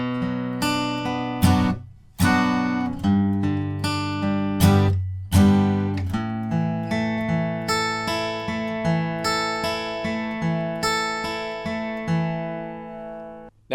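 Acoustic guitar plays the verse riff of a song, plucked chord patterns moving through changes in an even rhythm, close and clear, with no talking.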